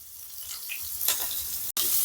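Chopped onions drop into a hot pan and a sizzle swells up close, continuing steadily after a brief dropout.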